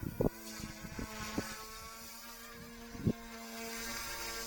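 A small direct-drive electric motor on an Eachine 180 RC helicopter whines steadily with a few sharp clicks and bursts, under wind buffeting the microphone; no talking.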